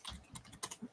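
A search being typed on a computer keyboard: a quick burst of a few close, quiet key clicks in under a second, with no talking.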